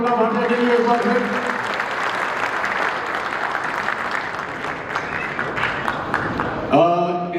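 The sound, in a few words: audience applause for Tamannaah Bhatia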